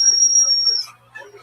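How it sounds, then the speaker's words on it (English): A dog whistle gives a single steady, piercing high-pitched note lasting under a second, followed by faint, brief voice-like sounds. "So, I'm ignorant to the dog whistle."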